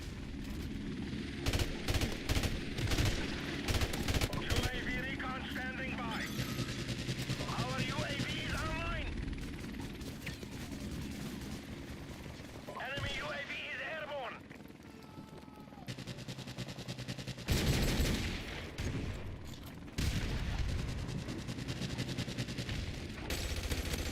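Light machine gun fire in Modern Warfare Remastered, with repeated bursts and rapid rattling volleys mixed with other gunfire and game effects, loud and dense, while a person talks over parts of it.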